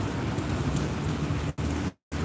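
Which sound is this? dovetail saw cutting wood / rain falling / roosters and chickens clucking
rain falling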